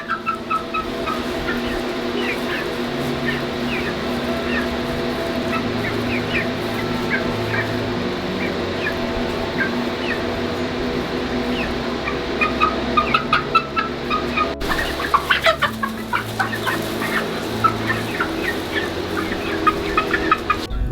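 Chickens, mostly hens, in a backyard coop cluck and call steadily at close range, with a turkey-like gobbling quality and fairly dense, repeated calls throughout.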